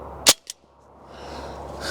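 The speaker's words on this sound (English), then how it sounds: "not too bad for offhand shooting at 20 yards" Two sharp gunshots from a Sig Sauer MPX Gen 2 during offhand shooting at 20 yards, one loud crack followed by a weaker report, then quiet room tone.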